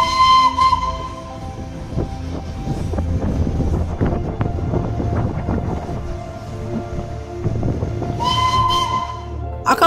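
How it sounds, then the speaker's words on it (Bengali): Steam whistle and hiss of the Darjeeling Himalayan Railway toy train on a winding mountain line, a loud sustained whistle at the start and again near the end with rumbling, chugging train noise between, no talk. "আঁকাবাঁকা পাহাড়ি পথে টয় ট্রেনের কুঝিকঝিক শব্দ"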